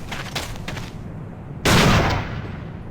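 Gunfire in the online shooter A.V.A Online: a rapid string of faint shots, then a single loud, close blast that booms and slowly decays.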